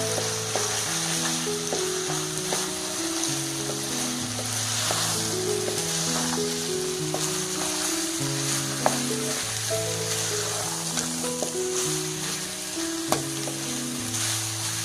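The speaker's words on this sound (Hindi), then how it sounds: "अब कीमा भुनना शुरू हो गया" Half a kilo each of minced meat and green beans fry in a pan with a steady close sizzle and occasional stirring, while melodic background music plays throughout.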